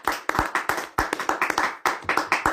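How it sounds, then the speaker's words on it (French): A church congregation claps hands together in a steady, rhythmic beat, loud and close, with sharp repeated claps filling the space and no talking over them. "Acclamons pour la gloire de Jésus."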